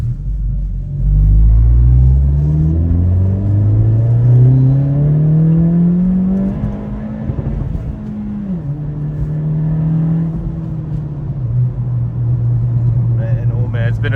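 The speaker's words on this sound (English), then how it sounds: "Exhaust sounds fantastic." A 2023 Acura Integra with a Remark exhaust accelerating hard in sport mode, its engine note climbing steadily through the revs, then dropping at a shift and droning on loudly from inside the car with a voice mixed in.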